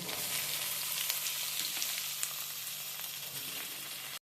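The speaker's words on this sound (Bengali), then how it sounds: "আলু আর পেঁয়াজটা ভেজে নেব" Potatoes and onions fry in mustard oil with nigella seeds, a dense, even hiss of sizzling close by with a few faint stirring ticks, running steadily until it cuts off abruptly.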